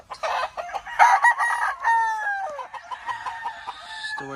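A Stuart broodstag rooster in a feeding pen on a game farm lets out a loud, close crow, with a few clucks around it.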